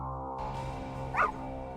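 Dogmeat, the dog companion in the 1997 video game Fallout, gives a single short bark partway through, set against a steady droning tonal backdrop of game music.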